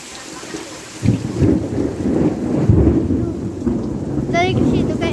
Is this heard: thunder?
yes